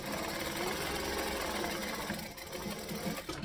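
Home sewing machine running steadily through a seam and back-stitching at the end, a continuous close mechanical whirr and rattle with a brief dip near the finish.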